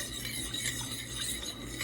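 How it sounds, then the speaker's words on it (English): A spoon stirs butterscotch pie filling in a pan, producing a continuous close scraping and swishing with faint clinks, steady and alone. "I'm going to stir that up, put it on the burner, and we're going to thicken this."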